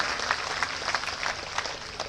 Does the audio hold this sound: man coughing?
no